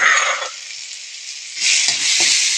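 Chili, shallot and pounded garlic are dropped into hot oil for a Thai stir-fried basil shrimp dish, giving a loud, close, hissing sizzle that eases briefly and then surges again as the pan is stirred.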